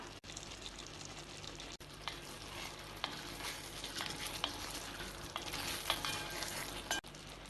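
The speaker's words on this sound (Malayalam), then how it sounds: "ഇനി ഇതിലേക്ക് 2 ടീസ്പൂൺ നെയ്യ് ചേർത്ത് ഒന്ന് ഇളക്കി മിക്സ് ചെയ്യാം." Banana pieces being stirred with jaggery and ghee in a hot pan for a Kerala snack, with a continuous soft sizzle and repeated scraping strokes of a spoon, fairly close and steady.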